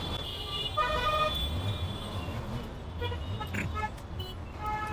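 A Wagon R VXi CNG car horn with a faulty horn relay gives short, repeated electronic beeps close by. A steady hum runs under the beeps, along with faint background talk.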